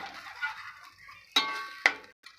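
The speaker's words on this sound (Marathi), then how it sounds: "आता हे मिक्स करून घेते चांगलं" A spoon stirs prawn masala in a pan with soft scraping, then two sharp metallic clinks near the end. Close and fairly quiet, with no talking.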